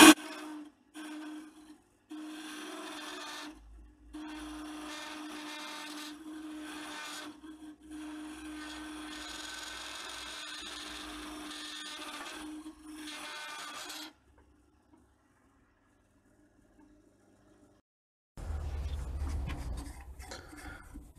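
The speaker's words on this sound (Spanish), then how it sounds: "Vaciamos un trozo de madera de sacrificio." A scrap wood block is hollowed on a wood lathe to make a holding chuck, a steady buzzing cutting drone running with short breaks for about fourteen seconds, then near silence, then a louder low rumble near the end.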